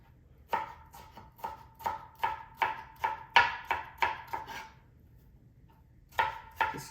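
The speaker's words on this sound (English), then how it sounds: "Just chop these up real quick." Green peppers are chopped with a knife on a board: about a dozen crisp, evenly spaced cuts in a quick run, a short pause, then two more, close and clear with no voices.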